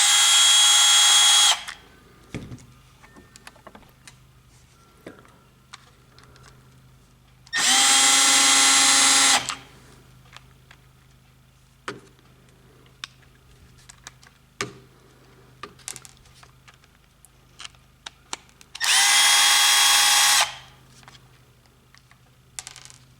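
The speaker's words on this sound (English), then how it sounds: "Now we need to take these 4 screws out." A power driver backs screws out of a Milwaukee LED sticklight. Three loud, whirring bursts of one to two seconds each are broken by long quiet gaps filled with small clicks and handling taps, all close up.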